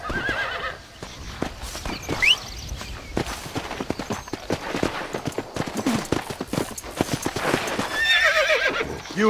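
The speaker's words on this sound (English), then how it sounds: "Oh, there's a horse." A horse in the Western video game Red Dead Redemption whinnies and neighs while its hooves clip-clop steadily, mixed with busy game sounds and brief sharp bursts.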